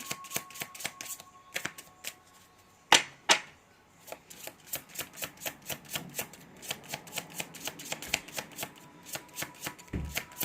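Tarot and oracle cards, including a Moonology deck, being shuffled in a steady run of crisp riffling flicks, with two sharper louder slaps near the start and no talking.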